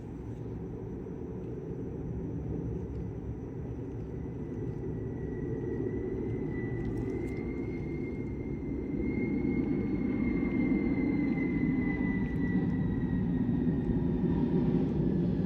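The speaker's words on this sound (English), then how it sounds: "Sorry, there's a plane going overhead. It's kind of loud." A fixed-wing airplane passing overhead outdoors, heard as a steady broad rumble that swells slightly louder toward the end, with a faint whining tone drifting above it.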